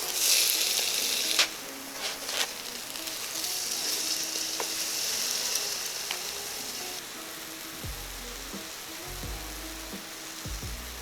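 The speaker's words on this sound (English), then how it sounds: "And slowly put the sandwich on the pan." A Monte Cristo sandwich, dipped in egg mixture, sizzles steadily in a pan with a bright, even crackle. Soft low knocks and pan handling sounds join in toward the end, with no talking.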